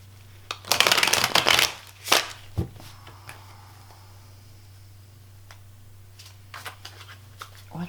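Tarot cards being shuffled: a dense burst of riffling and flicking for about two seconds, a couple of sharper card snaps after it, then near silence with a few faint taps over a steady low hum.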